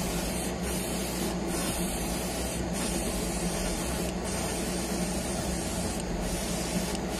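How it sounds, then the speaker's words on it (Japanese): Spray paint misting onto a La Ferrari plastic model kit for a carbon finish, a steady close hiss running throughout with several brief breaks between passes. "はい、一回さーっとかけて乾かしていきます。"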